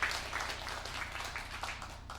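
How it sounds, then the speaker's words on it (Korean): Audience applause in a church during a Sunday worship service, a steady dense wash of clapping that holds throughout at moderate loudness with no one speaking. "박수 한번 드리겠습니다."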